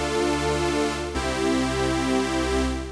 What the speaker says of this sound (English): we're just going to get a little bit of pitch wobble on our fine tuning